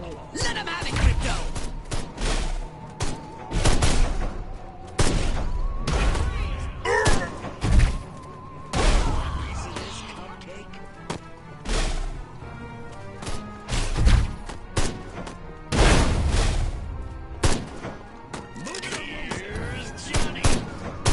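Rapid bursts of video game gunfire hammer a defended tower, loud dense volleys with thuds and crashes repeating throughout, while players shout and talk over the shooting.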